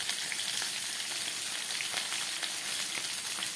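Mixed vegetables for Bengali shukto fry in a pan, giving a steady, close, even hiss of oil sizzling with faint crackles throughout and no voices.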